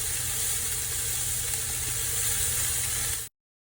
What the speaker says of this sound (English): And then we'll put the cauliflower in.